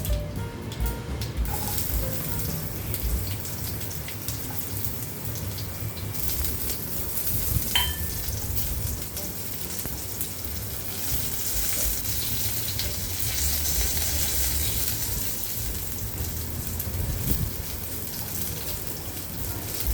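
Steady, dense sizzling and crackling of garlic, cumin and curry leaves frying in hot oil, continuing without pause at a fairly loud, close level.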